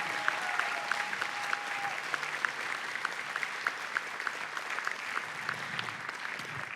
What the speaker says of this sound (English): please a round of applause for Soti Ang